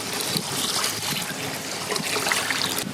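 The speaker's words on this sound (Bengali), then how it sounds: "3 বার ধুয়ে নেবো চালটাকে ভালো করে" Rice washed by hand under running water for a village chicken biryani, a steady close trickle and slosh of water that continues without a break for a few seconds.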